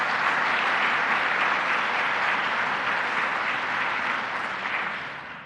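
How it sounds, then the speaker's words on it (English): An audience at a child care announcement event in Central New York claps steadily and strongly, the applause tapering slightly toward the end, with no talk over it. "Let's give her a round of applause as well."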